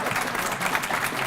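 A crowd applauds in a brief, dense wash of clapping, steady and fairly loud, with no voices over it.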